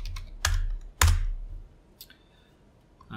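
Typing on a computer keyboard in an Unreal Engine editor tutorial, two loud, heavy key strikes about half a second apart, then fainter scattered clicks, close to the microphone with no voices.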